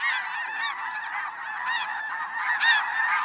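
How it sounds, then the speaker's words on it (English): A huge winter flock of snow geese, nearly ten thousand birds in the Skagit Valley, honks in a dense, continuous clamor as the frightened birds lift off together, loud and close with overlapping calls. "What a clamor as the frightened geese lift up in unison."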